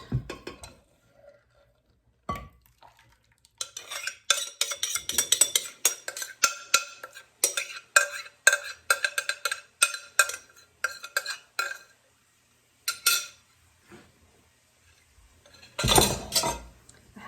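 Butternut squash casserole spooned into a small 8-inch square baking pan, with rapid clinks and scrapes of a utensil against the dish in bursts separated by quiet pauses, and no voices.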